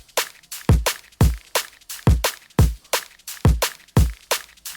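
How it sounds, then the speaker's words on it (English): Shaker and punchy drum hits in a neurofunk drum and bass track, the sharp bright transients repeating in a fast, tight loop with deep kick thumps beneath, loud and close with no talk. "little kind of shaker that comes in here"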